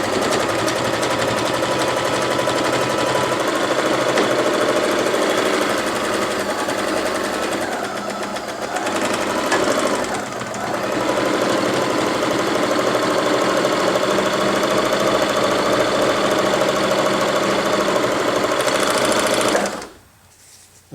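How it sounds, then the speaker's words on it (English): A Janome HD-1400 sewing machine runs continuously at speed through cotton and stretch fabric, a loud, steady mechanical whirring and rapid needle chatter that slows briefly midway and stops abruptly near the end. "I'm going to sew through this material through a standard cotton material and then through stretch material"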